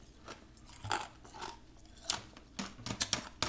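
Ice cubes crunched between the teeth, close and crisp, with a series of irregular sharp crackling bites and grinding chews, some louder bursts toward the end.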